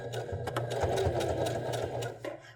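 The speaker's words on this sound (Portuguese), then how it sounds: "E aí eu vou encontrar com a costura do outro lado." A sewing machine stitching a waistband seam at a slow, steady pace, its close mechanical whir running continuously with a few brief changes in speed.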